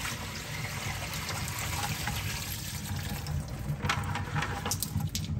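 Water splashes and trickles steadily as a batch of fish fry is poured from a container into a main aquarium tank, a close continuous pouring sound with no talk.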